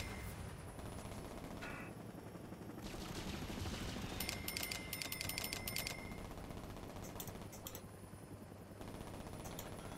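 Gunfire from a gunship in the video game Saints Row: rapid, sustained bursts of automatic fire over a constant engine roar, the rattling volleys coming in clusters with short gaps between them.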